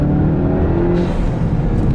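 Modified 2021 Volkswagen GTI, about 250 bhp, pulling away hard with wheel spin: a loud, steady engine roar with a rising, strained tone that holds throughout, no speech.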